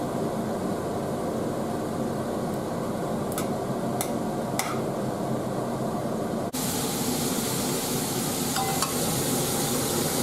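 Bell pepper frying in hot oil in a pot for Brazilian shrimp soup (vatapá), a steady close sizzle with a few faint clicks, continuous throughout.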